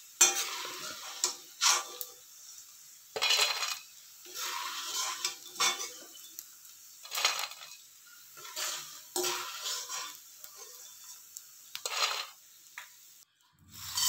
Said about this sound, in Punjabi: ਬਾਕੀ ਦੀਆਂ ਵੀ ਆਪਾਂ ਫਰਾਈ ਕਰ ਲਾਂਗੇ।